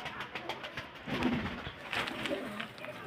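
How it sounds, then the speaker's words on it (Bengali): Pigeons, kept as quality birds in Beldanga, Murshidabad, coo softly and repeatedly, close by, amid a rough, noisy background with faint voices. "খুব সুন্দর কোয়ালিটির পায়রা"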